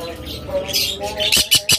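Pet budgerigars, diamond doves, lovebirds and cockatiels kept for sale chirp and squawk close by, a busy twittering that ends in a few short, loud calls.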